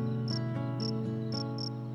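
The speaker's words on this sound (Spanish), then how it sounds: "El grillo, sereno, contento, cantaba melodías de amor." A cricket chirps steadily on a clear, moonlit night, its high bursts repeating in an even rhythm of four pulses, close and continuous over a droning background.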